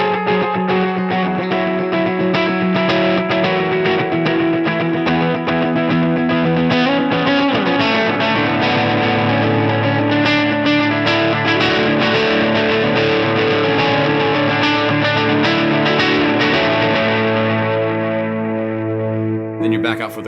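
Distorted electric guitar playing a song's chord progression, a dense, loud, continuous wash of driven chords with chorus and echo coloring for about twenty seconds, with no talking.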